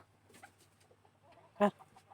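Broodstag chickens in a breeding pen: soft scattered clucks and faint rustling, then one sharp, loud cluck close by, with a quiet background.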